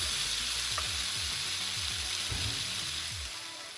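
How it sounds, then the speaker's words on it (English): Fresh tomatoes and pancetta sizzling in a pan with garlic and onions, a steady bright hiss with soft crackles and low stirring knocks throughout, close and moderately loud. "I've now added in my fresh tomatoes, which I'm just going to let cook down a little bit and break up."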